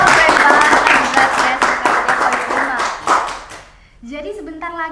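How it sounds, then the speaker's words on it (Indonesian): Burst of clapping from a group for a few seconds, fading out as a voice begins speaking. "tepuk tangan dulu"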